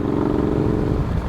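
A Triumph Scrambler XC motorcycle engine rumbles steadily during a ride, with dense, rough mechanical noise throughout a short stretch and no speech.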